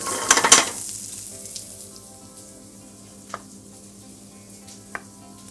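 Tomatoes tipped into a pan of browned onions for a chicken balti, a burst of loud frying and sizzling at first that settles into a steady low sizzle, with a couple of faint utensil taps near the pan.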